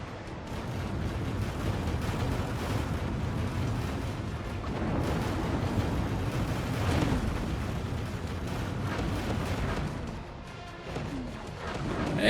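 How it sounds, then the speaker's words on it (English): A spaceship blows up in the space combat game X4: Foundations during a push into Xenon space, a dense rumbling roar of explosions and booming blasts that holds loud and steady throughout. "Explosion imminent. And there it goes."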